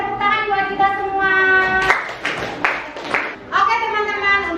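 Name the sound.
group clapping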